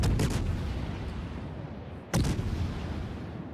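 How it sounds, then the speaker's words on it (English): Heavy naval guns fire on the battleship Jean Bart in World of Warships. One booming salvo rings out, a rumbling pause follows, then a second loud salvo crashes in. "Now he decides to open fire on the Jean Bart, a risky manoeuvre"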